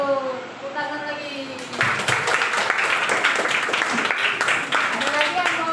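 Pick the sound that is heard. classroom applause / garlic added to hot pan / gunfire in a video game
classroom applause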